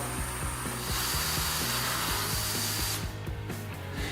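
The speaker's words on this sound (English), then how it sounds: "Start drilling fairly slowly, just to create that hole through the glazing" A power drill bores a hole through glazed wall tile, giving a steady, loud, close whirring grind that runs unbroken, with a slight change in tone near the end.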